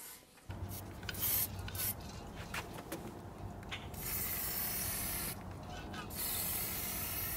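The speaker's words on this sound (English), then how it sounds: "I'm just going to rub the areas here with a very fine piece of synthetic steel wool" Fine synthetic steel wool rubbed over the wooden edge of an antique chair being restored, a steady close scratchy scouring in repeated strokes with short pauses, no voices.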